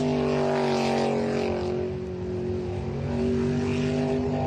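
An unlimited superboat powered by a 700-horsepower 410 sprint car engine roars steadily at racing speed, a loud sustained drone with a slight dip midway and no talk over it.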